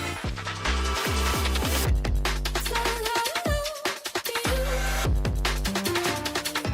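A musical passage played in reverse, with swelling, backward-sounding notes and rhythmic pulses sucking inward, loud and continuous with no voices.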